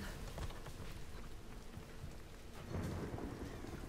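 Rain pours steadily in the Tomb Raider video game, a close, continuous hiss of drops on surfaces with a deep rumble of thunder swelling near the end, no talking.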